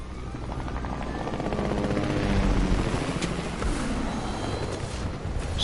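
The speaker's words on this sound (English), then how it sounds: "Besides the helicopter?" Helicopter rotors in the video game Fortnite make a continuous, loud, close chopping thrum that holds steady throughout, with no talk over it.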